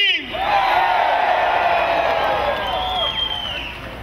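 A large crowd at a labor union rally in D.C. screams and cheers loudly, a sustained roar of whoops and yells that slowly fades over a few seconds.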